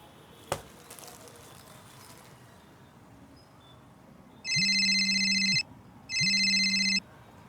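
A mobile phone rings indoors with two loud electronic ringtone bursts, each about a second long and separated by a short gap, after a single soft thump and near-quiet room noise.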